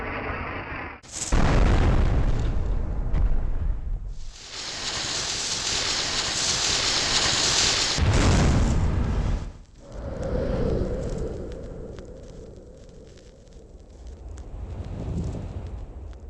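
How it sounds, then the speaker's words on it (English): A rocket fired at an enemy ship explodes in the PS1 game Iblard: Laputa no Kaeru Machi. Two loud blasts land about seven seconds apart, each followed by a sustained roaring rush, and the second trails off into a lower rumble. "we collect some matches and a rocket and fire that off at our other pursuer"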